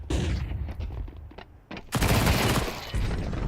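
Submachine guns fire in a Counter-Strike match during the IEM Melbourne 2025 esports tournament, with rapid bursts of gunfire and a dense, loud volley in the second half.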